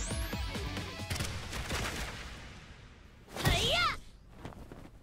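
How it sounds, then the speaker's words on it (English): A gunshot cracks out in the video game AI: The Somnium Files - nirvanA Initiative, a single loud blast in a scene of rapid thuds and impacts, followed by a sharp ringing burst and quieter speech-like sounds. "Ryuki just got shot."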